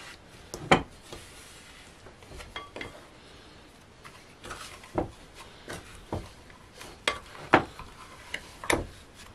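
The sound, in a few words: stirring a mixture well in a bowl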